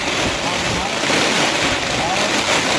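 Strong wind roars during heavy rain in the Gir forest, a steady, dense broadband rush buffeting the microphone for the whole stretch, with no clear speech.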